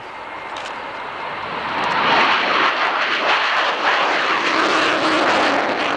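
An RAF Tornado GR1 jet takes off at a 1991 airshow, a loud, hissing engine roar that swells over a couple of seconds and holds steady as it gets airborne.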